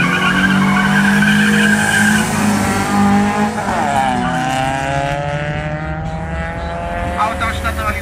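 Race cars, including a Seat Ibiza GTI and a Mitsubishi, launch from the start at an airfield circuit, their loud engines rising in pitch through the gears with tire noise, sustained and close throughout.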